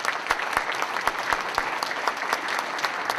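Audience members at a mayoral candidates forum in Bastrop, Louisiana applaud the eight candidates with steady, moderately loud clapping from a crowd, a few sharper individual claps standing out above the dense patter.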